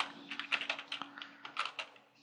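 Typing on a computer keyboard during a coding session: rapid irregular key clicks in quick bursts, close but fairly quiet over a faint steady hum, with no speech.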